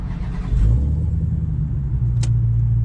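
A widebody Hellcat engine on 102-octane fuel rumbles steadily at a low idle after starting, with a brief rise in revs early on and a short sharp click near the end.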